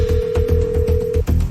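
A phone rings unanswered in the Minecraft video game, a loud steady electronic ring tone repeating over a pulsing low beat, cutting off near the end.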